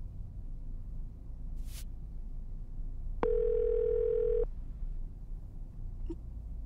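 A telephone dial tone in the horror video game Escape from Hotel Izanami sounds as a steady, moderately loud electronic tone for about a second over a low ambient rumble, with a brief high whoosh before it and no talking.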